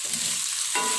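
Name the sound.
beef being stir-fried with spice paste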